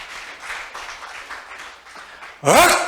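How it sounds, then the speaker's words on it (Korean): Audience applause at a temple family dharma assembly at Songgwangsa on Jongnamsan, a steady patter of clapping from a seated crowd that runs on evenly, then gives way at the end to a sudden louder burst with a rising tonal sweep. "좋아. 박수 한번 보내드려."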